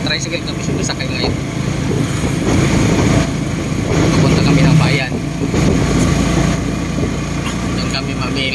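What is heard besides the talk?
motor tricycle engine while riding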